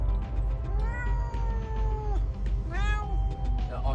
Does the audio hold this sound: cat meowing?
yes